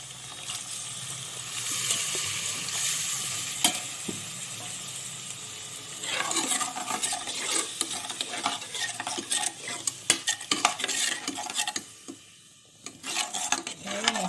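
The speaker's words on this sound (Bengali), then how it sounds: "এর মধ্যে আদার পেস্ট লঙ্কা গুঁড়ো হলুদ আর লবণ দিচ্ছি দিয়ে মশলাটা ভালো করে কষিয়ে নিচ্ছি" Onion, ginger paste, chili powder, turmeric and salt being stirred and fried into a masala in a pan, with a steady sizzle, scraping spoon strokes and sharp utensil clinks that grow busier and more clattery partway through; no talking.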